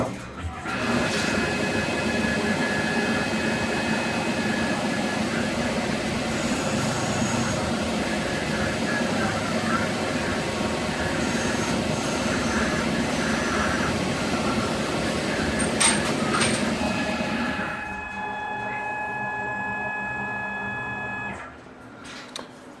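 A lathe parting off a keychain bottle opener gives a steady, loud machining drone with a sustained whine, then drops to a quieter hum near the end as the cut finishes.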